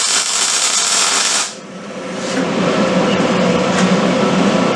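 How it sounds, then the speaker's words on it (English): Welding on the second run along a seam, heard as a loud, continuous crackling hiss that dips briefly after a second or so, then builds back up and holds steady. "Okay, second run on the weld."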